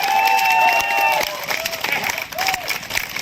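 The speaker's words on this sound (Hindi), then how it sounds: "दिनेश सर जी के लिए एक बार जोरदार तालियों के साथ।" Applause from an outdoor audience at a nautanki folk-theatre show at Chhatar Manzil, Kaiserbagh, Lucknow, loud dense clapping at first and then thinning, with voices and crowd murmur mixed in.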